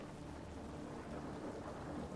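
Steady rain with low rumbling thunder in a meditation soundscape, a continuous soft wash of rainfall and deep rolling rumble, faint and even throughout with no voices.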